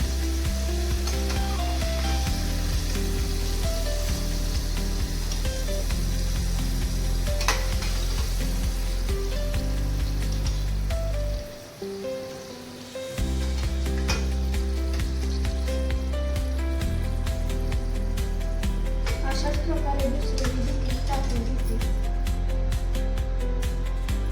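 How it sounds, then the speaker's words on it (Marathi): Potato finger chips sizzle steadily in hot oil over a medium flame, a continuous loud frying hiss that cuts out briefly midway before resuming, with faint stirring and background music layered over it. "लय पण लहान गॅस नाही लय पण मोठा गॅस नाही मिडियम गॅसमध्ये भाजून घ्यावा"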